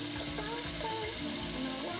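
Water poured onto a potted plant, a steady close trickle and splash running the whole time with no talking.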